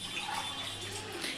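Water from a tumbler pouring onto basmati rice in a pot for a two-kilo chicken biryani, a steady close splashing gush with no talk.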